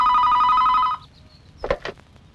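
A telephone rings in a Hindi movie scene, a loud close electronic trill lasting about a second, then it stops and a couple of brief clicks or handling sounds follow.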